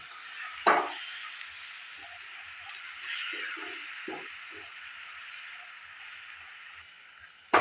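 Tomato paste frying in a pan over medium gas flame for dhaba-style aloo dum with curd, a soft steady sizzle throughout with a brief louder burst near the start and a few faint stirring clicks.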